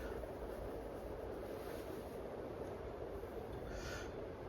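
An Encon Crusader 52-inch ceiling fan with hefty blades spins its motor up to speed, giving a steady, close whooshing hum of moving air with no talking.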